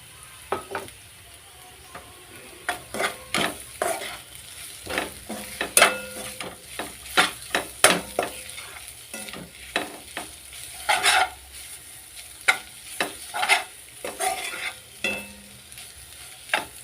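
Veg Maggi masala noodles being stirred and fried in a pan, with repeated sharp spatula scrapes and clinks over a soft, steady sizzle, close and fairly quiet, no talking.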